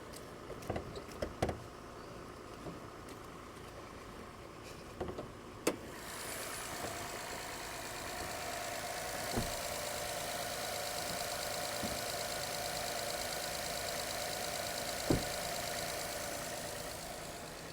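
A 3.7 liter Acura engine idles after being jump-started, heard as a steady low hum. A few clicks and thumps come first, then the idle settles in with occasional knocks.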